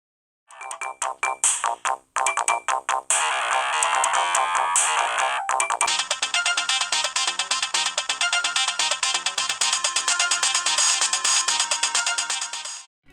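Game music and chiptune-style tones play through the small built-in speakers of an Anbernic RG503 OLED handheld, bright and continuous with short pauses early on, then a steady, busy stretch to the end.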